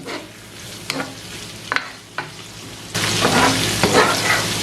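Cabbage and onions sautéing for Sri Lankan vegetable noodles, scattered spatula scrapes over a low sizzle that swells into louder, busier frying and stirring halfway through.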